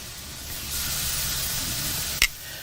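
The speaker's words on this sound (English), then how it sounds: "We'll keep turning them and keep rolling them in the glaze." Meat being turned and rolled in glaze in a hot pan, a low, steady sizzle with a brief sharp clink or scrape near the end.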